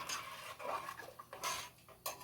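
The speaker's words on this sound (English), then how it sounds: "So you're going to just keep stirring that and let it come to a boil." Red chile sauce for pork posole being stirred in a pot, a quiet run of irregular scraping and clinking of a utensil against the pot, with a few sharper taps.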